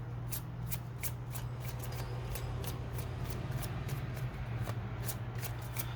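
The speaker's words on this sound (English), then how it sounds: "So let's just shuffle." Oracle cards being shuffled in rapid, repeated riffling bursts, close and steady over a low constant hum.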